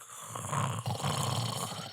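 A person imitates snoring by breathing heavily through the mouth, giving a continuous rough, rattling drone that lasts about two seconds with a brief dip in the middle.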